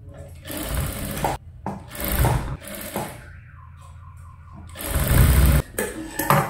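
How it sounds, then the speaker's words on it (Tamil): Short bursts of sewing machine stitching on a princess cut blouse come in close, uneven runs with quiet gaps and faint handling sounds between them. "அப்போ இப்படி வச்சு நம்ம கீழே இருந்து தையலை ஸ்டார்ட் பண்ணலாம்"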